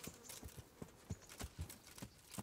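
Steady clip-clop of horse hooves trotting at an even rhythm, soft and distant, with no talking, in the video game Kingdom Come: Deliverance.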